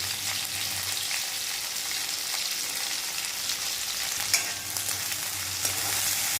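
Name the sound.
onion and asafoetida frying in a pan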